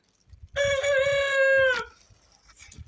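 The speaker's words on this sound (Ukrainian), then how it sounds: "Бролери, як ви чуєте, співають, тож вони дорослі." A broiler rooster crows once, loud and close, a drawn-out call of about a second and a half, with quieter rustling and clucking around it.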